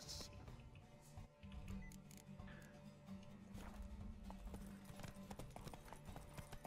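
Horse hooves clip-clopping in the video game Witcher 3, a steady rhythm of close, moderately loud hoofbeats on a hard surface with occasional game sounds around them.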